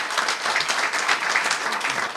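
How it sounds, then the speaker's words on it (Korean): Steady applause from a seated audience at a reunification education workshop, dense clapping that holds evenly throughout. "자축한 의미로 박수 좀 부탁드리겠습니다"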